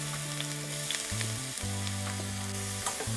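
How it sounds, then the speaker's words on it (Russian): An onion frying in about 10 grams of oil in a pan over medium heat gives a steady, close sizzle throughout. Sustained musical tones play alongside it. "Отправляем лук в сковороду."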